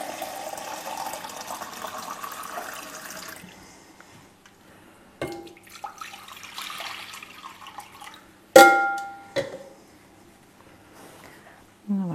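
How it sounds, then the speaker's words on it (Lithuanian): Water poured onto an absorbent material in a kitchen, a steady splashing gush for about three seconds, then quieter trickles and a few sharp knocks and clatters nearby. "Pilsim vandens."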